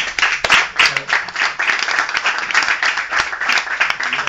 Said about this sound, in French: D'abord, on peut t'applaudir.